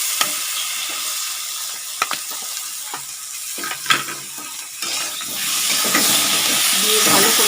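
Ginger paste and chopped tomato sizzle steadily in a hot pan as they are stirred and sautéed, a close, continuous hiss with occasional scraping clicks from the spatula.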